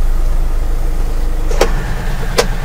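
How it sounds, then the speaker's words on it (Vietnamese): A Hyundai N250 light truck of 1.9 tonnes with a 3.6 m cargo body runs with a steady engine hum heard from the cab, broken by two brief clicks. "tiếng động cơ cũng khá là mạnh,"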